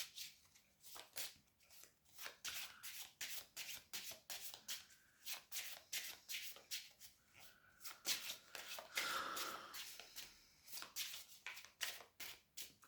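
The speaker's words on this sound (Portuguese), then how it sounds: "Vamos baralhar então para ver o que o tarô nos reserva para os próximos 7 dias." Tarot cards shuffled by hand close up, a long series of quick riffling bursts in a steady rhythm, each a crisp papery flutter followed by a short pause, with no talking over it.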